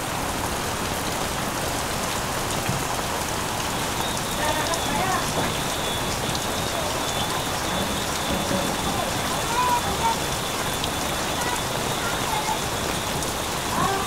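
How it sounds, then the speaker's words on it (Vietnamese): Heavy rain drums steadily in a flood as water spills into a house and under its stilted floor, a loud, constant roar of falling water lasting throughout. "Ôi dồi nước tràn vào trong nhà hết rồi. Mưa to quá."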